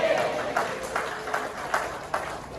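Audience clapping at a business seminar, a moderately distant crowd applauding in a loose rhythm with several swells about every half second, fairly soft and brief.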